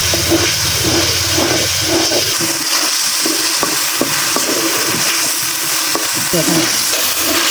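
A steady sizzle of ginger, garlic, onion and cumin paste frying in a hot pan over a clay stove, with occasional scraping and stirring clicks over the hiss.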